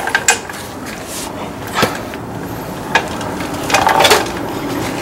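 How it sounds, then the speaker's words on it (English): The rear brake caliper of a 2013 Ford E-350 van being worked loose by hand. A few scattered metallic clinks, knocks and scrapes sound up close against a low background noise. "Okay, let's take the whole caliper out."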